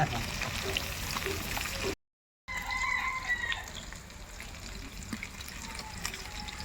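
Fish sizzling in hot oil in a pan, a steady crackling hiss that stays close and even, with a brief dropout partway through.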